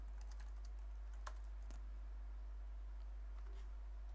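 Code being typed on a computer keyboard, quiet close key clicks in irregular bursts with a few sharper taps over a steady low hum, no voices.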